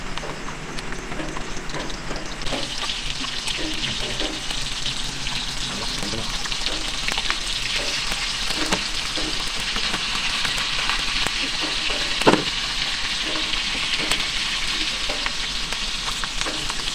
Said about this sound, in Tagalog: Nya, ato nang iprito ning bulad.